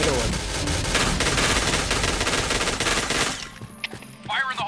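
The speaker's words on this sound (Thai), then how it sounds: "ดูจากการยิงของผมตอนนี้แล้ว ยิงไม่โดนเลย" Rapid automatic gunfire in the online shooter game Point Blank, a dense fusillade of sustained bursts that cut off after about three seconds. Faint game sounds follow and a voice speaks briefly at the end.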